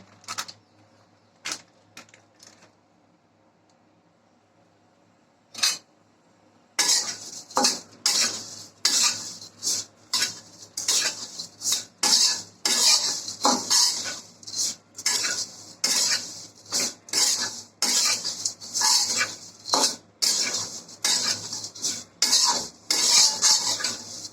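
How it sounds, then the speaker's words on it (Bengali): Lachha semai vermicelli tossed in a little ghee in a pan over a slow flame, with rapid dry scraping and clinking stirs of a spoon against the pan starting after a quiet opening with a few isolated knocks. "এখন আমি লাচ্চা সেমাইটা খুব সুন্দর করে স্লো ফ্লেমে ভেজে নিচ্ছি"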